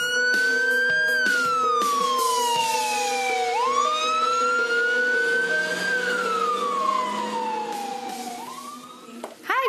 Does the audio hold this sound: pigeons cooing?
no